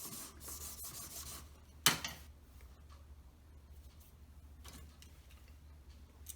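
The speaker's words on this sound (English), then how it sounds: "So I'll buff around it." A handmade wedding ring is buffed to remove file marks, giving soft, quiet rubbing strokes with one sharp click partway through, then low scraping passes.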